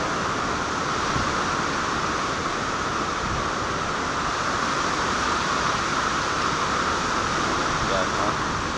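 Heavy rain and strong wind roar without a break in a storm, a dense and loud wash of noise with no pauses.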